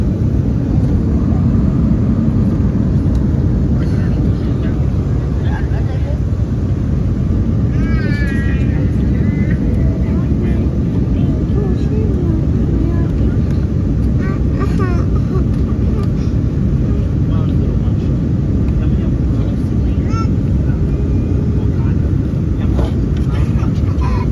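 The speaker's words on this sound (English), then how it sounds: "We're landing. We're on the top of Toronto." Porter Airlines airliner landing over Toronto, heard from the cabin as a loud, steady broadband engine and airflow roar throughout, with faint voices and small clatters underneath.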